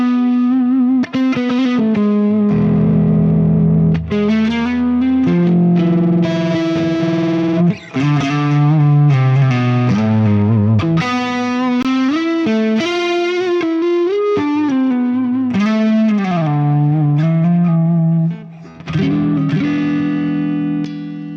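An electric guitar played through an IK Multimedia TONEX amp-modeling pedal on the Thick Britt preset with delay and reverb, loud distorted chords and sustained melodic notes ringing out with echoing tails, briefly cutting off twice before resuming.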